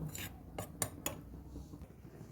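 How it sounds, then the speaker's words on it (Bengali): A spoon clinks against a bowl a few times in quick succession while stirring cornflour into milk, soft scraping between taps in an otherwise quiet room. "এবার আমি ভালো মতন গুলে নেব"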